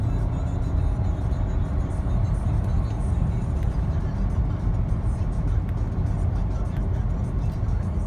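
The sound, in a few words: Audi Q7 3.0T accelerating zero to 60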